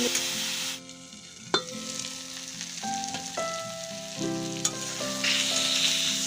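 Potatoes sizzle steadily in a hot pan with turmeric powder, a continuous close frying hiss broken by a few sharp stirring clinks and scrapes, with no talking.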